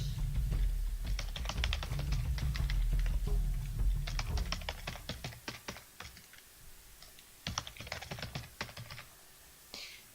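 Email and password typed on a computer keyboard in rapid bursts of close key clicks, pausing between runs over a low background hum.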